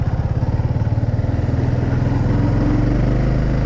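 A motorcycle running low on fuel rumbles steadily up close, its engine pulsing in a fast even beat that grows slightly louder and rougher partway through, with no talking over it.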